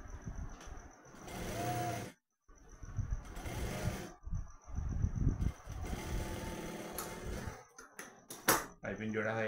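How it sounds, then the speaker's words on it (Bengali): Domestic sewing machine running in bursts while stitching piping onto a shirt body, a close mechanical whir that stops and restarts, with a voice talking over it and a few clatters near the end. "আবার এদিকটা হাফ করে সেলাই করবো।"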